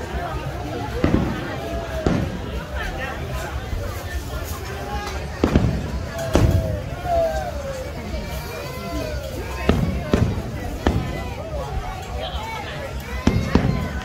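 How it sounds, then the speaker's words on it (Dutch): Fireworks burst repeatedly in sharp, booming cracks at irregular intervals, with people chattering in the background between explosions. "Oh nee, vuurwerk hier achter ons."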